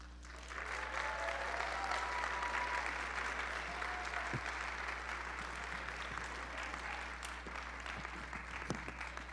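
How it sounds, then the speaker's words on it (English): Audience applause at a university nursing recognition ceremony, a steady round of many hands clapping that starts after a brief pause and holds over a low electrical hum. "We can give him another round of applause."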